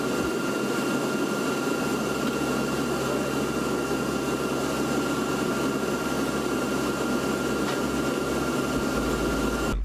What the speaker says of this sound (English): These C-130s flying in formation while shooting flares.